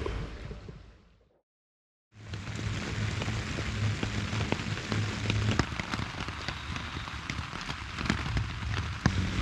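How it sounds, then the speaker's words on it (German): Steady rain patters on a tent during a rest day on a bicycle world tour in Turkey, a dense continuous hiss of drops after a brief silent gap at the start, with no voices. "Heute ist Pausetag im Regen."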